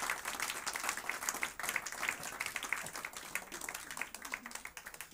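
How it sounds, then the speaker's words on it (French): A church congregation applauding during a Sunday service, a fairly soft, steady patter of many hands clapping with a few louder individual claps, continuing for the whole stretch. "Juste applaudissons-le encore et bénissons-le."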